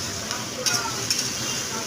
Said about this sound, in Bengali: পেঁয়াজটা দিয়ে একটু নাড়াচাড়া করে দেখো কালারটা হয়েই এসছে পেঁয়াজের